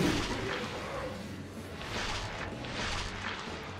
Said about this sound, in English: Launch harpoons for headshots.